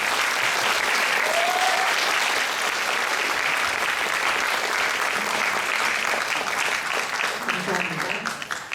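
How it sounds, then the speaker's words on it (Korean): Sustained applause from a concert audience at a Korean traditional music ensemble performance, steady and fairly loud throughout, with dense clapping filling the whole stretch. "다시 한번 큰 박수 부탁드립니다."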